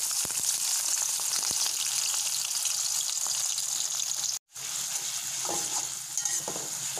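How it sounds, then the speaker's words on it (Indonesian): Shallots frying in hot oil while cooking opor ayam, a steady loud sizzle and crackle that carries on throughout, with a brief dropout midway and faint stirring pops. "kita goreng bawang merah dulu"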